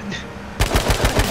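Rapid automatic gunfire in the video game H1Z1, a loud burst of closely spaced shots starting abruptly after a quieter moment and running in a fast, even rhythm to the end.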